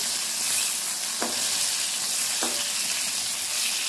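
Steady crackling sizzle of potatoes and eggplant frying in hot oil, with two brief scraping stirs breaking through the hiss.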